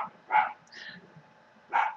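Indoors, a dog gives two sharp barks about a second and a half apart, close and fairly loud, with a softer whine or yip between them.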